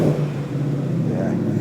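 Ford Mustang Mach 1 V8 engine giving a short rev blip, a loud, deep rumble that swells briefly and settles to a steady idle, close by.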